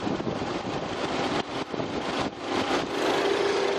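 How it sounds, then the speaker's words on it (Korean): Engine of a Lincoln sedan with about 50,000 km on it idling, heard up close from the open engine bay as a steady broadband hum and whir with slight fluctuations and a faint tonal whine. "엔진 소음 먼저 들려드리면은"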